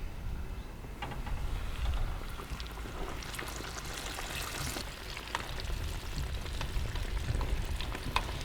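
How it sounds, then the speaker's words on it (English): Flour-coated fish frying in oil for Lebanese sayadieh, a continuous crackling sizzle with popping bursts, steady and close. "and we will fry it"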